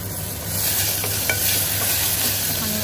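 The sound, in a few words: frying green chili and tomato in a pan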